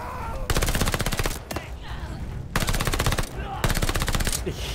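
PPSh submachine gun fire in the Call of Duty Vanguard video game: three long, loud automatic bursts with rapid, even rattling, separated by short gaps.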